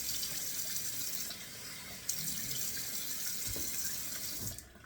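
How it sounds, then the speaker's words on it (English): Cold water runs steadily from a bathroom tap into a sink during a wet shave, a close, continuous hiss with faint splashes, cut off just before the end. "I'm turning in the cold water in here because it's time to get 2 splashes of cold water"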